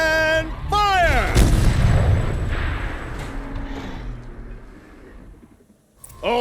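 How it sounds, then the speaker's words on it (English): A heavy turret in the Horizon Zero Dawn video game fires a single deep, booming shot that rolls into a long rumbling decay, preceded by a short voice line. "Rotate turret! And fire!"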